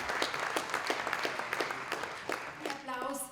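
An award ceremony audience applauds the recipient of the 2022 Bloudkova plaketa, Toni Vodišek, with sparse, distinct claps rising into steadier applause, a voice briefly speaking near the end.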